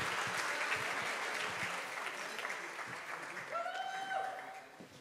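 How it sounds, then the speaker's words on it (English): Audience applause greets a police chief at an evening community event in Austin, a broad steady wash of clapping that tapers off toward the end with some voices mixed in. "How about a round of applause for him?"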